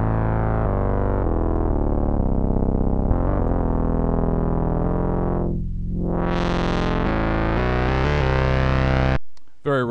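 Presets of the Viking VK-1 synthesizer rack extension in Reason play as raw, distorted sustained chords and tones with a sweeping filter dip and rise, loud and continuous before cutting off near the end.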